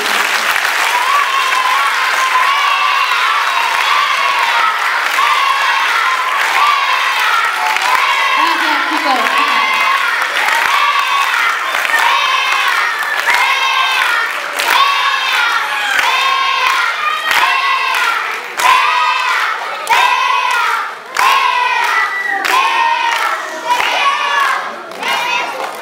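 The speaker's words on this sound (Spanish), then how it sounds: "Muchas gracias y un aplauso sobre todo" Loud, dense crowd applause with cheering fills a hall at a community presentation event in Larraga, steady and sustained for the full stretch, with shouts and whoops rising above the clapping and music-like tonal bursts mixed in.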